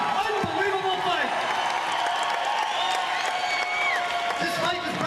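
An arena crowd of about 3,000 applauds and cheers after a mixed martial arts bout between Ben Nguyen and Eric Perez, giving dense continuous clapping and whoops while a voice talks over it.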